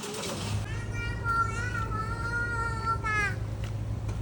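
A cat meows in a long, drawn-out cry with rising and falling pitch, close by, over a low steady hum and faint background voices.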